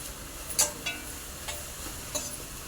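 Ingredients fry in a pan until golden, with a soft, steady sizzle broken by a few sharp clicks and taps of stirring, heard close and alone.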